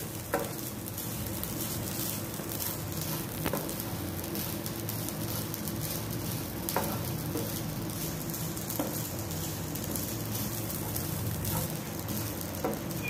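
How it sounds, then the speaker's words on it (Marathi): Grated coconut roasting with onions in a pan for a Malvani egg curry, a steady dense sizzle and crackle throughout with occasional faint scraping clicks, no talk. "आता यात आपण खोबरं घालायचं आहे, आणि ते सुद्धा व्यवस्थित भाजून घ्यायचं आहे"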